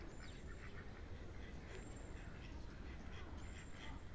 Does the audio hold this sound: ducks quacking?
yes